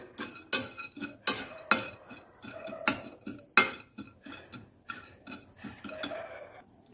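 Chopped almonds roast dry in a kadhai, with a spatula scraping and clicking against the metal pan in a steady, close rhythm of sharp taps over a quiet background.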